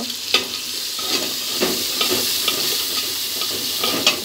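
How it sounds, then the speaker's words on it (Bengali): Ground coriander and cumin masala frying and being stirred in a pan for a prawn and taro-stem curry, with a steady close sizzle and repeated scraping stir strokes throughout, no talking. "ভালো করে আবার মশলাটাকে কষিয়ে নেব।"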